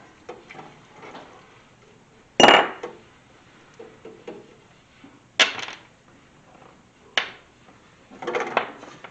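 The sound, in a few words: metal generator engine parts pulled out of ultrasonic cleaner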